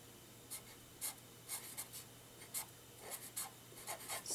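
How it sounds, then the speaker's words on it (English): Pen or pencil writing on paper, a quiet close-up sequence of short scratchy strokes in uneven bursts with brief pauses between them. "So I'm going to write that."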